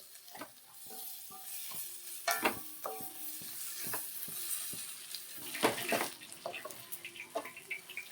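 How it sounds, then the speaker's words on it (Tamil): Onion and capsicum sautéing in a pan for a capsicum masala, gentle sizzling with repeated scraping and stirring clinks of a spoon against the pan, irregular and close, with no speech. "ரெண்டு நிமிஷம் நல்லா வதக்கி விட்டால் போதும்"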